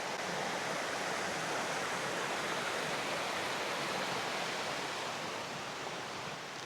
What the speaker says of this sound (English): it's got this nice little creek